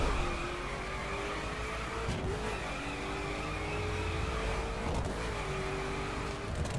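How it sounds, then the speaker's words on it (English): Koenigsegg Agera R engine in The Crew driving straight, its tires briefly spinning and chirping at each gear shift, with a steady engine note dropping and climbing between shifts around two and five seconds. "Every gear shift, the tires spin."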